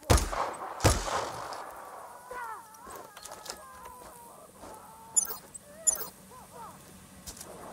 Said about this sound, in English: He's got the gun. Gunfire! Run!